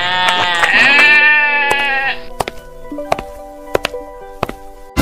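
A cartoon goat gives a loud, wavering bleat lasting about two seconds, followed by scattered sharp knocks and clatter from the animated scene.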